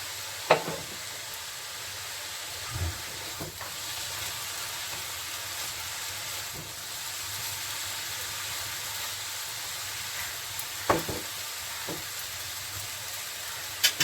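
Papaya and fried potato pieces frying in a pan for a Bengali ghonto, with a continuous soft sizzle and a few sharp knocks and scrapes of a spatula spaced through it.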